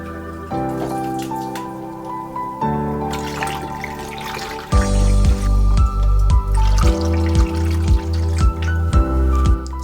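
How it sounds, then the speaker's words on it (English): Cold water is poured from a plastic cup into hot honey must for mead, a loud splashing trickle with resonant gurgling that turns heavier and rhythmic halfway through, alone without talk. "We're going to use this awesome Coors Light cup to pour some cold water in here"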